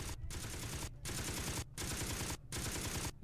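Rapid automatic gunfire from a weapon in the video game Beast Battle Simulator, sustained loud bursts broken by four short gaps, close and without talk.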